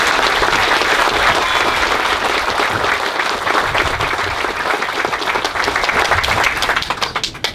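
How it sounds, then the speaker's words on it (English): An audience gives loud, sustained applause at a Marine Aircraft Group 31 change-of-command ceremony at Beaufort Air Station, with the clapping dense and steady throughout. "Ladies and gentlemen, a round of applause"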